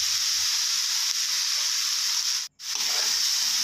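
Pork sizzles steadily in a hot pan while being stir-fried with dark and sweet soy sauce, a loud continuous hiss with one brief pause near the end.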